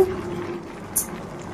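Bottle gourd curry simmering as its water cooks off in a pan, a soft steady bubbling hiss with a faint higher tick near the middle, brief and close, no voices.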